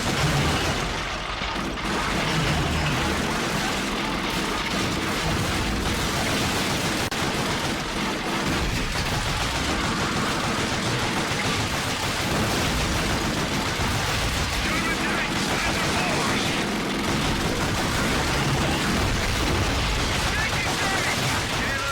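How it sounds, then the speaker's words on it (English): Chaotic World War II battle din while riding a tank through the Eastern campaign in Call of Duty: Finest Hour on hard mode: dense, continuous gunfire and machine-gun bursts with booming blasts, loud and unbroken throughout. "The amount of troops and destruction when riding around the tank is so much fun."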